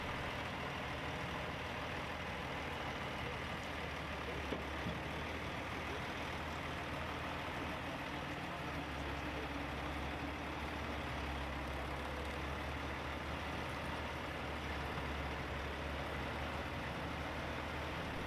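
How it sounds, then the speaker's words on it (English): Heavy trucks rumble steadily as they haul a 320-ton floating gold plant out of a pit, a constant low, dense engine drone with no pauses. "the trucks slowly and steadily pulled the plant out of the hole and onto the surface"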